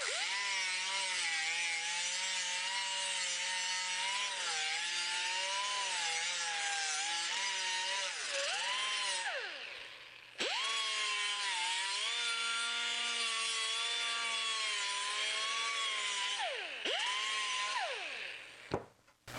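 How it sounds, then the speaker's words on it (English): A grinder taking excess metal off the edge of a patch panel in a Scout restoration, a steady whine with shifting pitch that runs in two long passes separated by a brief pause. "So now we'll grind this little excess off right here that I didn't get with the cutter."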